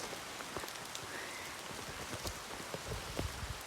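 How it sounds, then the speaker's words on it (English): Rain falling at a coffee estate, a faint steady patter of drops on surfaces with scattered closer splashes, soft and continuous with no voices. "the tour and it's raining."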